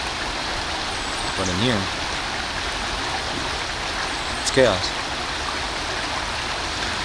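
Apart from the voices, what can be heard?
flowing water outdoors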